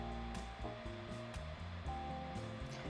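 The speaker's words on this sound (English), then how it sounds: "I go in with the hairspray and the hairdryer" A hair dryer blows steadily nearby on a wig, a constant whooshing hum with shifting tones as the airflow changes.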